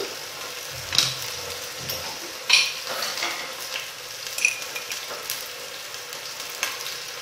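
Courgette and potato pieces sauté in a pot for a velouté, giving a steady close sizzle with occasional clinks and scrapes of a utensil against the pot and no talking.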